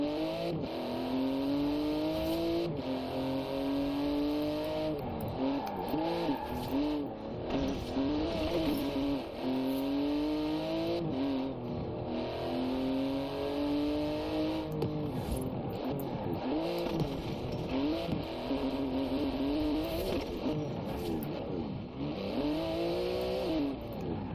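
A car engine in the racing game Forza Horizon 4 revs and races continuously, pitch rising and falling through repeated gear shifts, loud and close throughout with no talking.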